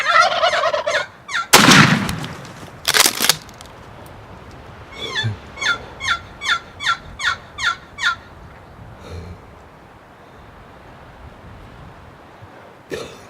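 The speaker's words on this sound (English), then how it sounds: "Was it a gobbler, wasn't he?" A wild turkey in New Mexico gobbles, a quick series of about eight evenly spaced rattling calls after a few louder sharp bursts, moderately near and otherwise quiet.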